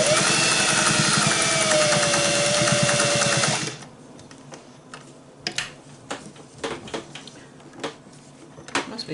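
A vintage Singer 403A sewing machine stitches through about three layers of fabric in a fast, steady, loud whirring run that stops abruptly, followed by scattered clicks and handling taps.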